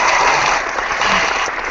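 Applause sound effect triggered from a clapper during an online call, a steady, dense wash of clapping filling the whole short moment at constant loudness with no voices over it.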